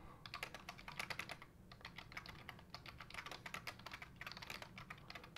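Fast, steady typing on a computer keyboard while entering text in Google Docs, with close, crisp key clicks in irregular bursts throughout.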